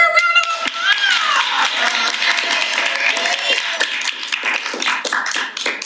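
An audience at a leadership training event breaks into sustained applause, a dense, steady wash of many hands clapping throughout, with a voice briefly audible at the start.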